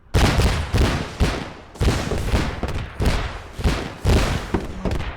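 Rifle gunfire on a 200 meter range, loud heavy shots in overlapping volleys repeating about once a second, each with a long echoing boom and a brief decay before the next.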